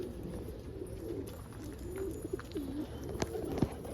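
Birmingham roller pigeons coo softly in a loft, low murmuring calls repeating quietly over a steady background hum, close by with no talk.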